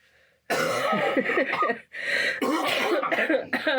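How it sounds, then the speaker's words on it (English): A rough, raspy coughing fit, several hacking coughs in quick bursts with a brief pause, close and fairly loud. "Saturn coughs."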